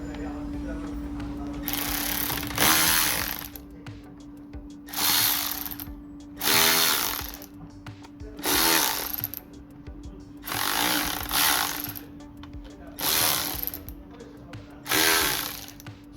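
Ratchet wrench loosening Torx T30 bolts on the intercooler of a 2012 Skoda Octavia 1.4 TFSI, with repeated bursts of close clicking ratchet strokes separated by short pauses over a steady background hum.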